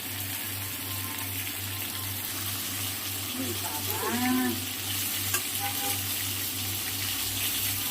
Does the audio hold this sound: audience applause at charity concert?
no